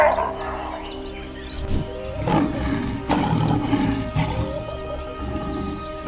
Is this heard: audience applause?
no